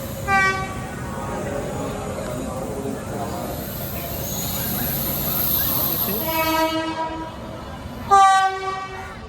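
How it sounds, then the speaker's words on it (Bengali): Ganadevta Express 13017, running with new LHB coaches, pulls out of Howrah station with a steady rolling rumble, several loud horn blasts near the start and end, and faint voices around it. "সঠিক টাইমে ট্রেন ছেড়ে দিয়েছে হাওড়া স্টেশন থেকে।"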